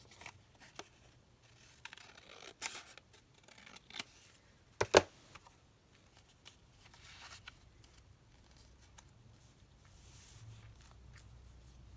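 Scissors cut out a piece of emerald green paper for an altered-book junk journal, giving scattered soft snips and rustles with one sharper close snip near the middle, in a quiet room without talk.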